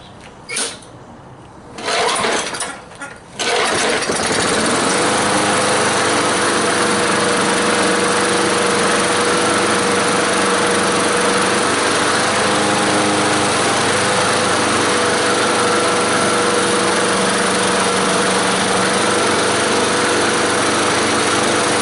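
A trash-picked lawn mower engine sputters through a couple of short pulls, then fires up and runs loudly and steadily up close for nearly twenty seconds, with no talking.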